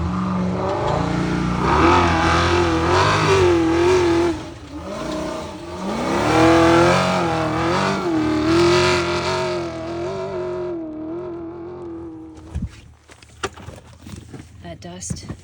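Loud truck engines roar and rev as vehicles drive past on a dusty off-road race course, a sustained droning rush that rises and falls for several seconds before cutting off abruptly, leaving lighter clatter and rustle.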